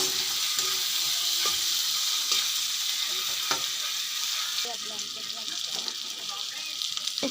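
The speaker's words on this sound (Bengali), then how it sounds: "একটু হলুদ গুঁড়ো দিয়ে দিলাম, খুব সুন্দর করে নাড়াচাড়া করে নেব।" Potatoes and peas fry with a steady close sizzle as turmeric powder is stirred in, a spoon scraping and tapping the pan now and then under the continuous hiss.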